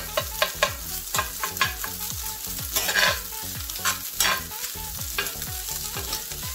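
Day-old cold rice being stir-fried and broken up in a pan, a continuous sizzle punctuated by rapid, repeated spatula knocks and scrapes, close and loud, without speech.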